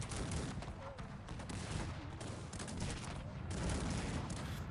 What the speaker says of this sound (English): Cannons, keep shooting at this blob